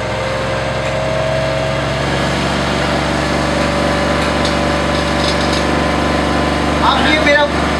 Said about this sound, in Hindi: अब ये मेरा जनरेटर जो है